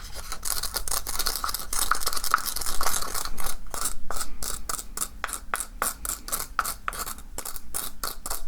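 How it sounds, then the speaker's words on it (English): Potion ingredients, dragon's liver among them, ground together in a close, intimate ASMR setting, producing a steady rhythmic run of gritty scraping and clicking strokes that keeps going without a break. "Now, we need to grind all this together, otherwise it won't work."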